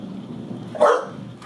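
One sharp dog bark from a female dog frightened by a thunderstorm, in the middle of a quiet room, short and nearby, followed by a faint after-sound.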